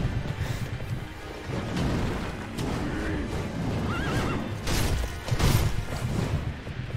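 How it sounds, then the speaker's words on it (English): Horse neighs and whinnies with clip-clopping hooves in the video game Sekiro, loud and close over a busy backdrop of game sounds and a few sharp crashes. "Why does he get a horse?"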